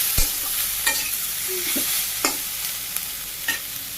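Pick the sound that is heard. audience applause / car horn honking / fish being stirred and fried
fish being stirred and fried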